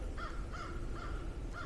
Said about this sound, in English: The crows are out.